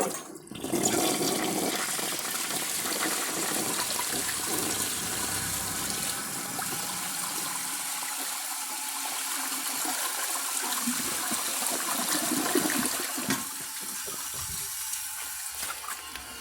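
A 1974 American Standard Cadet toilet flushes a washcloth and a dish towel, a loud continuous rush of swirling water lasting about thirteen seconds before easing into a quieter refill trickle, with no talking.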